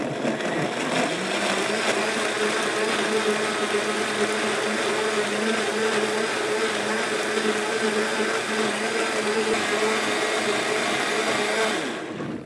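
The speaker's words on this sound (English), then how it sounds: "I'm going to put those into the blender." A kitchen blender liquefies softened peppers with a loud, steady motor whir that holds constant throughout and cuts off at the very end.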